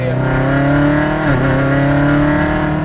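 A Chevrolet C7 Corvette Z06 with a supercharged LT4 V8 hums in a loud, steady drone from inside the cabin, pitch dipping briefly mid-way, while someone talks over it.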